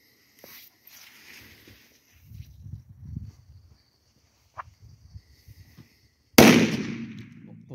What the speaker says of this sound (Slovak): A môžeme ísť na ďalšiu petardu, čiže Mamba 1.